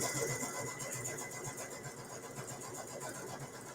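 A sewing machine stitches a fabric pot holder, its needle running at a steady, continuous mechanical hum close by for several seconds.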